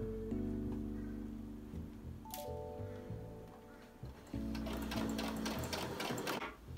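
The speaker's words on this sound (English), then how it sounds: "you want to just stitch a couple of mils from the edge so that you're definitely catching the ruffle" A sewing machine stitches a ruffle onto a little black dress, running steadily in close, humming bursts with a brief pause partway through and a quiet voice faintly in the background.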